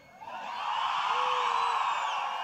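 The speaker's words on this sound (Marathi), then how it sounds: "पहिले मुलं ओरडू द्या" Young men in the audience at a youth dialogue event raise a loud, sustained collective shout that swells quickly and holds, a dense roar of many voices together.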